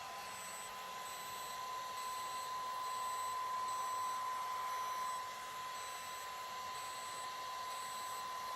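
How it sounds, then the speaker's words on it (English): A DermRays Revive handheld beauty device gives off a steady high-pitched electronic tone over a soft motor hum, quiet and close, with no talking. "So sometimes you'll hear it just beep, like a single beep"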